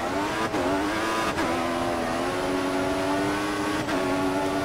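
A Formula 1 race car engine screams at high revs in F1 2014, steady and close, with brief dips at gear shifts and no talking.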